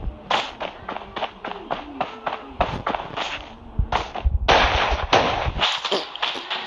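A burst of sharp game gunshots, several cracks in quick succession followed by heavier booming blasts, loud and close.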